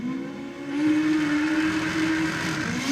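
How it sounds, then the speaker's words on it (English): A Honda VTEC car engine revs hard at a drag strip in Sydney, climbing in pitch as VTEC engages and winds up to a high, sustained wail, close and loud. "As we hear VTEC being activated."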